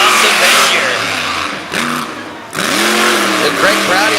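Avenger monster truck, driven by Jim Koehler, revving loudly on a dirt track at a Little Valley, New York event, its engine note rising and falling through two surges while an announcer talks over it.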